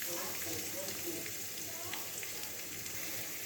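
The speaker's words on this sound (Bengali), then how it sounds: "একটু ভাজা ভাজা করব" Chopped beans fry in a pan with green chillies, giving a soft, continuous sizzle with light crackles, fairly quiet and steady throughout.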